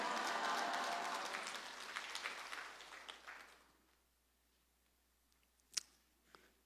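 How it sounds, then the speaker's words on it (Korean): A church congregation applauds during a Sunday service, with dense sustained clapping that fades out over about three and a half seconds, followed by near silence and a few faint clicks. "감사합니다 하고 박수 한번 칩시다"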